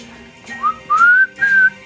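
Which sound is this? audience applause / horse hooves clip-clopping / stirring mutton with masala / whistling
whistling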